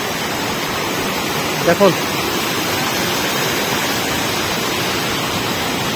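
Mangardora Waterfall in Nabarangpur pours as a steady, dense broadband rush, with a brief voice cutting in once near the start.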